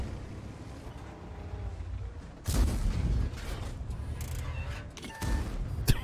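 Tank cannon shots in the World of Tanks video game: two loud, booming blasts about three seconds apart, each cutting sharply through a steady low rumble of engine and battle background.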